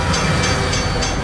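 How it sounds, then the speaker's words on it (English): An RO-scale model train rolls along its rails with a continuous loud rumbling clatter and faint rhythmic clicks, close by and steady, with no voices. "The train is gonna be coming right throughout here from the railroad crossing."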